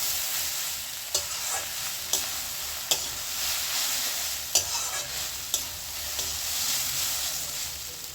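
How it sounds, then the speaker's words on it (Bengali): A spatula stirs egg chow mein in a hot pan, steady frying sizzle underneath with a handful of sharp scraping knocks at irregular intervals, close and moderately quiet, no voices. "এবার ভালো করে আমি এটা নেড়ে দিচ্ছি।"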